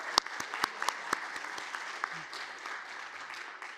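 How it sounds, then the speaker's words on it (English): An audience at an evening student presentations event applauds the Global Engagement Seminar program. Crisp individual claps stand out at first over a thick, steady wash of crowd clapping that holds for the full few seconds. "So we'll give them a round of applause too."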